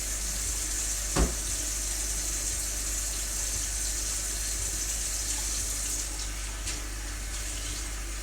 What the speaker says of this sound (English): I'll be washing the saucepan.